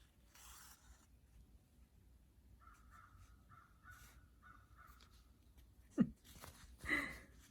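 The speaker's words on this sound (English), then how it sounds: "I don't know if you guys can hear the crow out there." A crow caws outside a few times, a faint, distant run of short repeated calls over a quiet indoor room, followed by a couple of louder close knocks.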